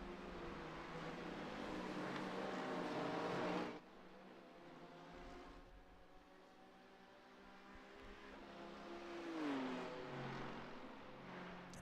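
BMW race cars in iRacing at Daytona accelerate with a steady, sustained engine drone, a loud layered roar that drops briefly before another engine rises in pitch and pulls away.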